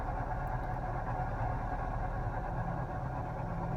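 Nissan 200sx with a GA16DE engine running Megasquirt, idling with no idle control and the screw set around 1,000 rpm: a steady, low, quiet hum with faint vibration, unbroken and alone.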